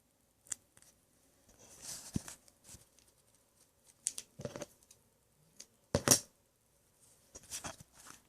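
Scissors cut duct tape for a bow pen in a few separate close snips and crunchy tearing sounds, scattered among quiet pauses and light handling.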